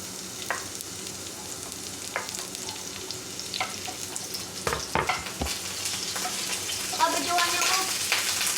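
Garlic frying in a pan, a constant crackling sizzle with occasional stirring scrapes and clinks that grows louder toward the end, with some voices in the background.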